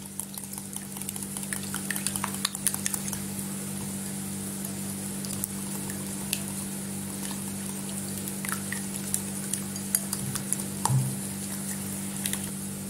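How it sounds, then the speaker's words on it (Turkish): Eggs whisked in a bowl with salt, red pepper flakes and paprika: faint wet patter and sharp little clicks of utensil on bowl over a steady low hum, close and quiet, no speech. "güzelce karıştırıyorum"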